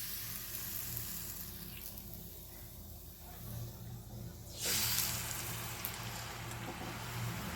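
Rose cookie batter, dipped on a metal mould, frying in hot oil, a soft steady hiss that suddenly swells into a louder bubbling sizzle as the batter goes in, no voices.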